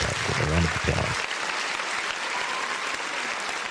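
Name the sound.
audience applause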